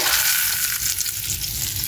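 Fish frying in hot oil in a pan makes a loud, dense, continuous sizzle, close by and unbroken for under two seconds, with no voices.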